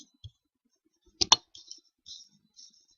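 A computer mouse clicked while working in an Excel 2013 spreadsheet, one sharp close double click amid a few faint ticks in a quiet room.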